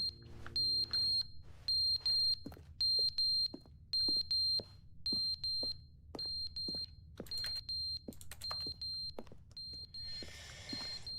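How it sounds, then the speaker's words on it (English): In The Stanley Parable, a high-pitched electronic beeping like an alarm repeats in a steady rhythm of short pulses, with a burst of hiss near the end, and no talking. "What is that beeping sound?"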